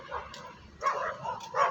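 A dog on a morning walk gives a few short barks and yips at moderate distance, faint bursts spaced out over quiet background.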